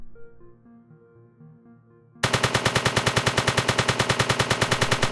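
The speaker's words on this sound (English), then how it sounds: "firing the weapon now jolts the camera upwards towards where the bullet is going" Rapid automatic gunfire from a weapon in an Unreal Engine indie first-person shooter game, a loud steady stream of shots cutting in abruptly after a quiet musical passage and continuing without pause.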